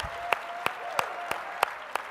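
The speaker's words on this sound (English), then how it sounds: "Talk about cheap applause" Audience applause rings out as a series of six evenly spaced, distinct claps over a faint room hum and background murmur, sounding sparse rather than a full crowd ovation.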